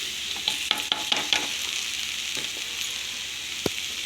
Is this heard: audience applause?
no